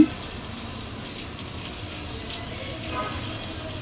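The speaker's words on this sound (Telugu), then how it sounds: "వాటర్ ఇక్కడ పైనుండి కిందకి ఫ్లో అవుతున్నాయో" At Tirumala, water pours down from above in a steady, even hiss that holds at a moderate level throughout, with a faint rise toward the end.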